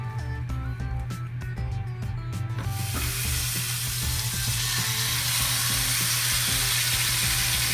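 Roast meat sears in olive oil in a hot pan, a loud, steady hiss that swells after a few seconds and continues under background music.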